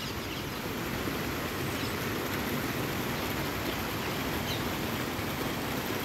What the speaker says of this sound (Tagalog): Yung pumapatak na ulan, yung ganito lang, walang hangin, nakaka-relax po.